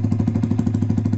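A motorcycle engine fitted with an SC Project titanium exhaust runs close by with a rapid, even, throbbing pulse, loud and alone for a brief moment.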